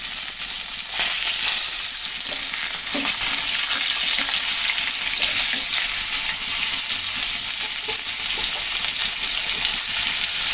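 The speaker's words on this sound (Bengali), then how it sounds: "কলা দিয়ে একটু ভালো করে ভেজে নিলাম।" Plantain pieces frying in hot oil alongside browned potatoes for a curry, a loud, dense and continuous sizzle with occasional stirring clatter, close up and without talk.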